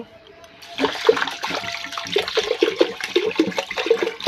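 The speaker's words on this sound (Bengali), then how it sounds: "ভাতের চাল নিয়ে নিচ্ছি এবার একটু জল দিয়ে ধুয়ে নেব" Rice grains are rinsed in water in a home kitchen, with close swishing and splashing as the rice is stirred and sloshed in repeated bursts.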